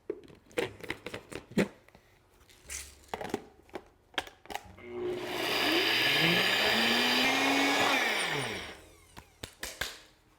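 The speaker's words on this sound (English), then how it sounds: "I've got 2 cups of rolled oats here that we're just gonna blend into a flour first" Two cups of rolled oats ground into flour in a blender, a loud whirring motor roar that rises in pitch for about four seconds, bracketed by close clattering knocks and handling of the jar and lid.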